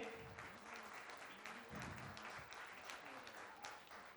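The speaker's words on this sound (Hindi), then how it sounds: "तालियां जोरदार हो सकती है।" Audience at a convention applauding a speaker, sustained clapping from many hands with a voice talking over it, fairly distant and moderately loud throughout.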